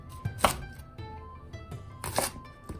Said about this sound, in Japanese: 白いとこ切って半分ぐらいまで包丁入れます。